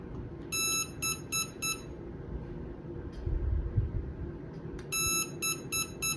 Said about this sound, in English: you may hear the motor is continuing to emit a series of beeps